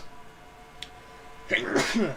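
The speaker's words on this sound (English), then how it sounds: "Sneezing." A single sharp sneeze bursts out after a faint intake of breath, close and sudden, against quiet room tone.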